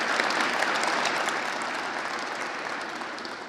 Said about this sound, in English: One more round of applause for that great leader.